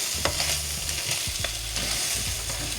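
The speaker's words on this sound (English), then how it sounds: "We're gonna stir it one more time." Chicken frying in a pan is stirred, with a loud steady sizzle under repeated scraping strokes of the utensil, close up and with no talk.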